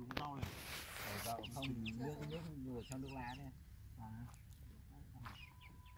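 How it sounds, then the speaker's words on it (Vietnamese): A Muong chicken, a small-legged breed, clucks and calls in short rhythmic bursts close by, interleaved with people chatting over it. "Con gà này chạy khỏe lắm ấy."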